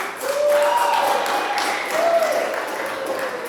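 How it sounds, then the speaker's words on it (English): Wedding reception guests applaud a helper, a moderate spread of clapping with some whoops and voices mixed in, holding steady for a few seconds in an indoor hall. "let's give a round of applause for her"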